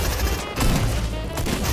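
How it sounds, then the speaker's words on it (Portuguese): Dense, rapid gunfire from a weapon in the video game Fortnite, a continuous loud burst of shots filling the whole moment with no pause. "essa arma tem que dar 50 milhões de tiros"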